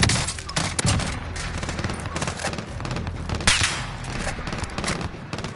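A loud video game gunfight with dense, rapid bursts of automatic gunfire and overlapping shots that continue almost without a break.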